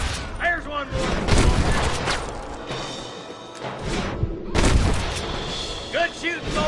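Gunfire in the Western video game Red Dead Redemption: repeated loud shots and booming blasts in bursts, mixed with shouted voices and game music, with a lull midway before another heavy volley.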